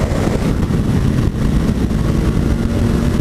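A 2015 Suzuki GSX-S750 motorcycle engine drones loudly and steadily while riding on the highway, with wind rush and no talk.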